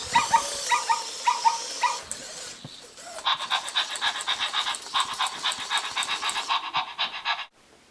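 A Zoomer interactive robotic toy dog gives a few short electronic barks, then a long run of quick rhythmic panting huffs. The sound is close and fairly loud, with no talking.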